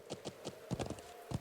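Horse hooves clip-clop in a video game while a sheep is led back to a settlement, several quick irregular hoof hits in short bursts with a brief pause midway, fairly close and moderately loud.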